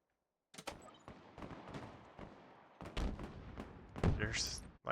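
Gunfire in the video game Halo Infinite during an Oddball scrim, with bursts of shots in loose clusters and a sharper crack near the end, mixed with game sounds.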